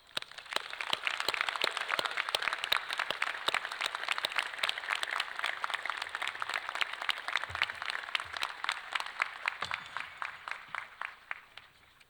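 Sustained audience applause at a university commencement ceremony honoring retiring staff, dense steady clapping from a large crowd filling the space for about twelve seconds before slowly thinning out at the end.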